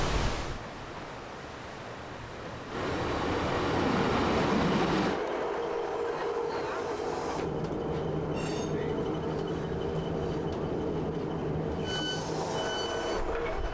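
A British Rail Class 150 diesel train runs through a Cornwall station, a loud rumbling roar with rolling wheel noise that shifts in tone and carries faint tonal squeals, heard alone without talk.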